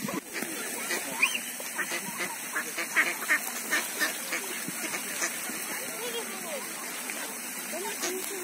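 Ducks quack repeatedly at a park pond, with a steady stream of calls over a constant wash of running water and a voice speaking over them.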